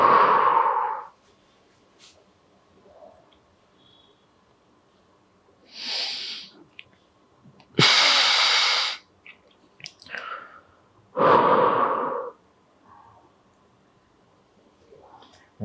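Several soft, breathy exhales during a seated yoga twist, each a separate puff with quiet gaps between them, close and moderately loud with no talking.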